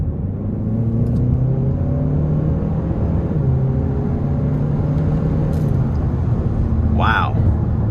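A 2025 Hyundai Sonata N Line 2.5T accelerating moderately, a steady loud engine and road rumble with rising tones heard from inside the cabin, continuous throughout with a brief higher whine near the end.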